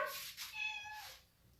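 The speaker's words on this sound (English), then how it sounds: "There's a big cat." A cat meows in two or three drawn-out, rising and falling calls, close and fairly loud, with no talking over it.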